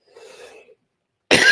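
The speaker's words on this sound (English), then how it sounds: "I'm going to figure this cough out." A single sharp, loud cough bursts out close to the microphone after a stretch of faint breathy noise and near silence.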